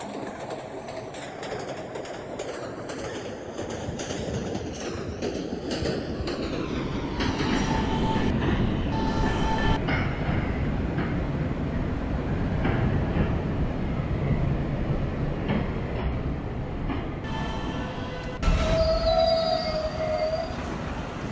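A New York subway E train rolls along the track with loud, sustained metallic wheel squeals over a heavy rumble and clatter, heard close from inside the car.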